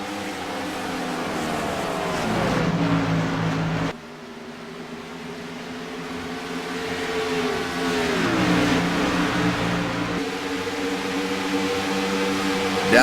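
Race cars lap the Chicagoland track, a continuous engine drone that swells and falls as cars pass, with a brief dip midway and pitch sliding down as they go by, with no voices.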